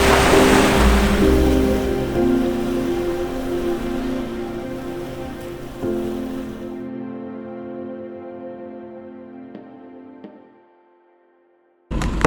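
Ocean waves roll onto a black sand beach in Iceland, a loud, continuous wash of surf that holds steady and then fades out near the end before a brief burst returns.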